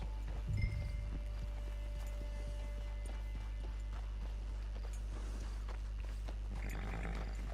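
Horse hooves clip-clop steadily at a camp in the game Red Dead Redemption 2, a soft rhythmic patter of hoofbeats over a constant low ambient drone, moderately close but quiet.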